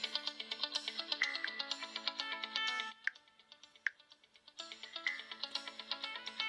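The default ringtone of a Huawei Honor 6C smartphone plays, a bright repeating electronic melody of quick plinking notes that pauses briefly with a couple of isolated tones, then resumes, clear and alone without talk.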